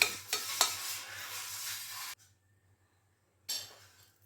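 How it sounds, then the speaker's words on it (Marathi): Dried mint leaves dry-roasting with curry leaves in a pan give a close, crackly rustle of stirring for about two seconds, then fall silent before the scraping resumes briefly. "यालासुद्धा कढीपत्त्यासोबत भाजून घ्यायचं"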